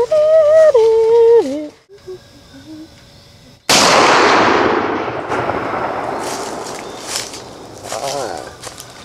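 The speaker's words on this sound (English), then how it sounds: "I'll use my gun because I don't like Brittany's" A single loud gunshot from target shooting rings out abruptly midway and decays into a long echoing tail, followed by faint rustling and movement; a voice talks briefly beforehand.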